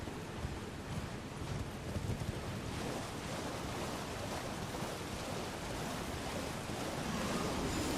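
A waterfall in the underground Siofra Aqueduct of Elden Ring pours as a continuous broadband rushing roar, steady and enveloping, swelling slightly toward the end.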